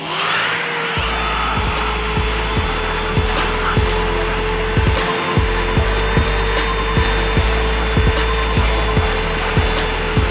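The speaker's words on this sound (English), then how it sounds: "that's some pretty thick sawdust for this little shop vac" Milwaukee 0970-20 Fuel cordless shop vacuum drones steadily and loudly while sucking up thick sawdust, with a string of sharp clacks and rattles as debris strikes the hose, close and without talk.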